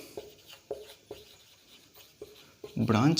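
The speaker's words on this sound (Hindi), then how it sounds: "तो लिखते हैं" Writing on a board during a chemistry lecture, with a series of short, regular scratching strokes spaced about half a second apart, followed by a voice speaking loudly at the very end.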